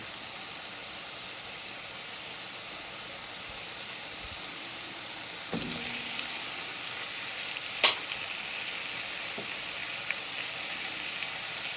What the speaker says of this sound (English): We're going to add a little bit more of our oil, the sesame oil. We're going to add our onions.